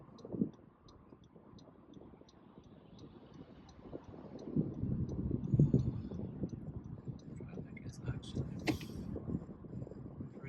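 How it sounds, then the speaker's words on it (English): A car interior hums with low road and engine rumble while merging onto a highway, swelling louder midway as the car picks up speed, with light ticking at the start. "Just getting on the highway here, so traffic's actually pretty good."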